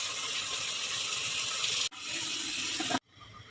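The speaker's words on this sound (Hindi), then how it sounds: "आलू भूनने के बाद हमने इसमें पानी डाल दिया है" Water pours into a cooking pot of fried potatoes with a bright splashing hiss, cutting off abruptly twice, near and fairly loud.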